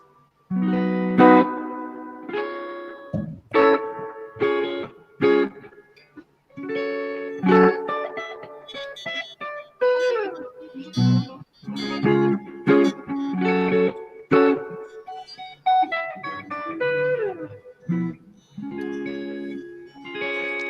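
Clean electric guitar tone in the neck position through a Deluxe Reverb amp with reverb set high, single notes and chords ringing out with long reverberant tails, played alone at moderate loudness without talk.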